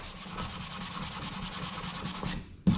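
Steady hand sanding of wooden coasters, a continuous close rasping rub that runs evenly for nearly the whole stretch before stopping abruptly, with a brief knock at the end.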